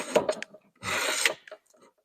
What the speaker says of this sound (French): J'ai gratté toute la tête des cadres.